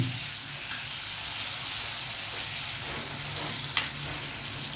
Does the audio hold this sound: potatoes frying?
yes